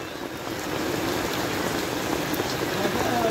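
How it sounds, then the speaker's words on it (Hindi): Steady, dense rain hisses continuously, a broad wash of patter with scattered drops, fairly close and loud throughout. "ये देखो यार बारिश और तेज हो गई है"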